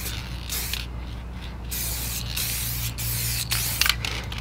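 Dupli-Color tire paint sprays from an aerosol can onto a tire in several short hissing bursts separated by pauses, close by, over a low steady background hum.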